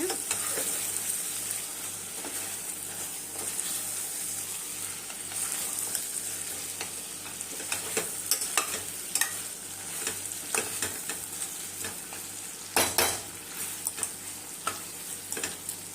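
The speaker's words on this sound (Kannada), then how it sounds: "ಚೆನ್ನಾಗಿ ಥರ ಫ್ರೈ ಆಗ್ತೈತೆ ನೋಡಿ" Chicken ghee roast (hariyali style) frying in a pan gives a steady close sizzle with scattered stirring clicks and scrapes, a sharper clatter near the end, and no talk.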